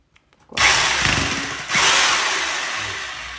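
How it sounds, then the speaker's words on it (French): An electric drill fitted with a 5 mm bit bores into a wooden board while a curtain rod is being installed, revving up loudly and staying close and steady in two continuous runs. "Maintenant, je perce avec la mèche de 5."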